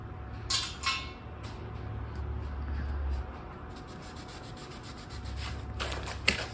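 Finish being rubbed by hand into a wood floor, a steady scratchy rubbing texture at close range with a few sharper scuffs and small knocks.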